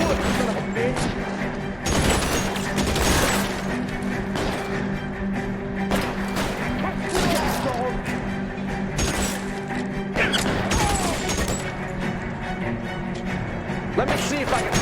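Gunfire in the video game L.A. Noire: scattered sharp shots and crashes under game music and shouted voices, loud and close.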